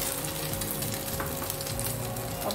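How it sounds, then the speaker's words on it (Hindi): Batter-dipped bread slices shallow-fry for French toast, giving a soft, steady sizzle and crackle from the pan at a fairly low level with no voices. "दूसरा बैच भी फ्राई कर लेते हैं अपना"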